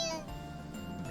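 A cat in the video game NEKO-NIN exHEART gives a short, high meow at the start, followed by a lower sustained tone, close and fairly quiet.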